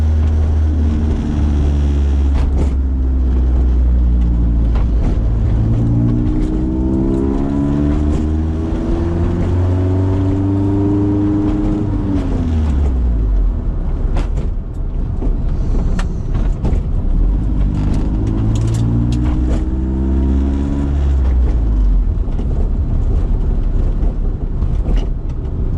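A loud Honda-powered Clubman Estate on a short test drive, engine droning and rising through the revs, easing off, then climbing again, with constant road and cabin noise.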